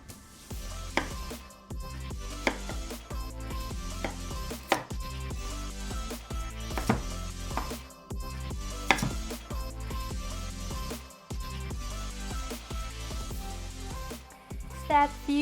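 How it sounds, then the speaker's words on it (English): A knife chops vegetables into big pieces on a board in a home kitchen, irregular sharp knocks spaced about a second apart under steady background music. "I'm going to cut the vegetables in big pieces."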